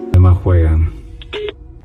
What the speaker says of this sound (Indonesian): dan telepon pun akhirnya dimatikan